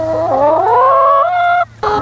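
Chickens in a portable 8-metre caravan egg shed holding 450 birds give a loud, close, drawn-out squawking call that rises in pitch, then break off briefly before another call starts.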